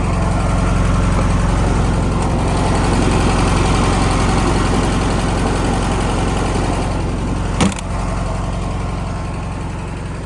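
A 1972 Volkswagen Beetle Convertible's rear-mounted engine idles steadily with a low, even rumble throughout, one brief knock or click partway through.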